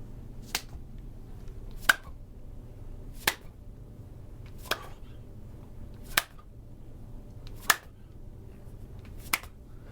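Seven sharp, evenly spaced hand claps from clap push-ups ring out alone, each one crisp and close against a quiet room.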